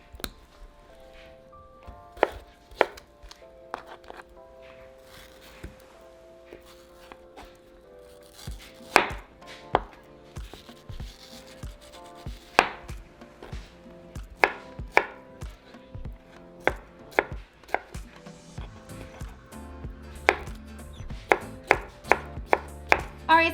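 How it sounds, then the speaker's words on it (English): A knife chops mango into cubes on a cutting board with sharp, irregular taps that quicken and grow denser toward the end, close and clear over a quiet room. "And then just cut them in cubes like that."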